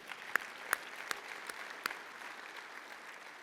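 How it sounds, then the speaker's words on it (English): A conference audience at an opening ceremony gives a few scattered, sharp claps, faint and sparse, spaced across a few seconds against a quiet room. "please give him a round of applause"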